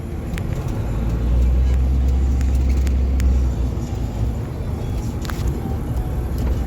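A Cummins diesel truck with an 8-inch axle dump exhaust pulls hard, giving a loud, steady low rumble that swells and holds for several seconds before easing slightly, heard close from inside or near the truck.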